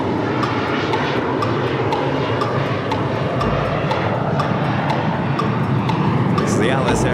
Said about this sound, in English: This is the Alice Air Qantas Freight 747.